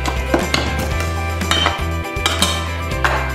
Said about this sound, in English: Using a butter knife, just cut the butter and lard into the flour until it's quite crumbly.